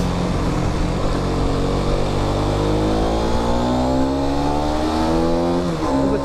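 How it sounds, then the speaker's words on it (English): A Mondial HPS125 motorcycle accelerates hard to overtake a car, its engine note climbing steadily in pitch through the gears over loud, continuous road and wind noise. "I'll just clip to me overtaking a car so you can see the performance of this bike"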